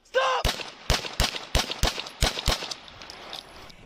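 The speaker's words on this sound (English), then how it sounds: "Turbefill shouting commands and begins shooting in a matter of seconds." A deputy fires about seven sharp gunshots in quick succession during a police shooting, each shot loud and close, right after a brief shouted voice.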